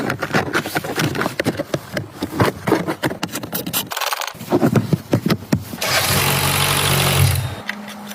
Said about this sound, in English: Good, cold engine.